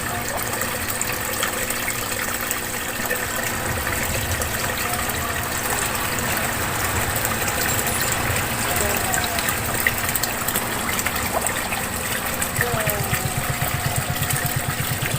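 Water gushing steadily from a homemade bucket filter into a fishpond, a constant broadband rush that stays loud and even throughout with a low hum beneath.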